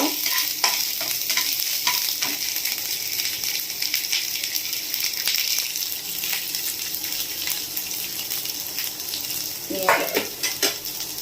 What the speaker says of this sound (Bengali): একটু আদা পোড়া হালকা করে নেড়ে নেব